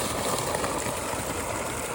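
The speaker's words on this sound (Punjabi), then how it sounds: "ਉਹ ਦੇਖੋ ਜੀ ਪਾਣੀ ਚੱਲਦਾ" Irrigation water runs steadily along a channel in a farm field, a continuous broadband rushing and gurgling flow at fairly close range with no voices over it.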